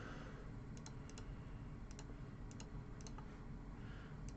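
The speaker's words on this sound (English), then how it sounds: "we're going to type in Judge." Typing on a computer keyboard in a quiet room, with small clusters of quick, light key clicks coming at irregular intervals over a low, steady background hum.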